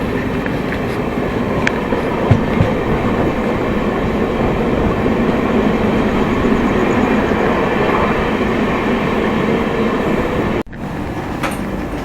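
The Prayagraj Jaipur Express rumbles steadily into Agra Cantt station, with a loud continuous roar of wheels and carriages, faint clicks from the rails and a brief drop near the end, and no voices.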